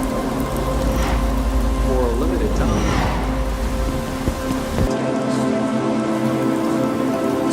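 Heavy, steady rain pours throughout a video game trailer, accompanied by a narrating voice and a deep rumbling tone that drops away near the end.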